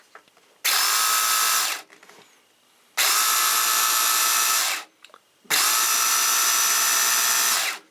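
A Smith's electric knife sharpener whirs loudly in three long bursts of about two seconds each, with short quiet gaps between them, close by and with no talk.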